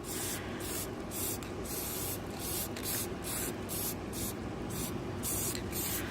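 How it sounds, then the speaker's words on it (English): Continuous hiss of an aerosol spray paint can coating a toy wrestling lead pipe, broken into short bursts with brief pauses, close and steady. "I'm gonna spray the lead pipe now, shake it up again"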